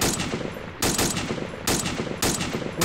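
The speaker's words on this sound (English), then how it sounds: "I'm gonna put more rounds at the fucking pack." Bren light machine gun in the Arma military game fires a series of sustained automatic bursts, loud and close, with short breaks between them and no talking.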